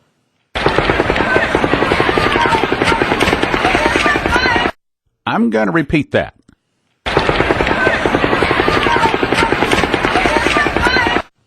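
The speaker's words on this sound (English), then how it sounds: "the distant rifle reports arriving to your ear or to your recording device from a long ways away" Distant rifle gunfire, low and muffled, arrives as rapid, dense trains of thudding reports in two long bursts. Someone speaks briefly between the bursts.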